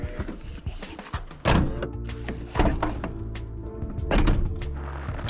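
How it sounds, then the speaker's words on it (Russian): A VW T6.1 California Ocean camper's rear door pulls shut with its soft-close mechanism, giving a series of close mechanical thunks, clicks and a whirring latch motor, loud and without talk. "Еще хотел добавить, здесь есть доводчики дверей."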